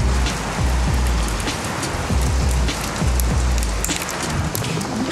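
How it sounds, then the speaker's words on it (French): Hail falling on a sunny day, a dense steady patter of pellets striking surfaces with low thumps underneath, continuous and fairly loud with no talk. "Par contre, bah il grêle."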